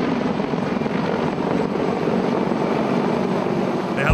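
A CH-53K King Stallion heavy-lift helicopter with composite rotor blades flies nearby, giving a loud, steady rotor and turbine roar with whooshing wind throughout.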